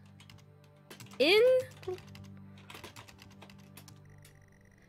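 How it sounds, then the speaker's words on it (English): Rapid clicking of computer keys, light and close, with a short spoken word and a brief tonal sound partway through. "You guys are gonna hear my typing, sorry."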